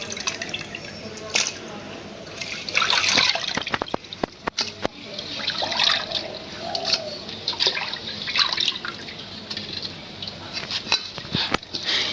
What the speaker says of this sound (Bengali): মাছগুলি একদম সুন্দর করে ধুয়ে নিব